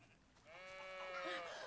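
A sheep in the video game Baldo gives one clear, drawn-out bleat with a wavering tone, fairly close and alone over soft game ambience.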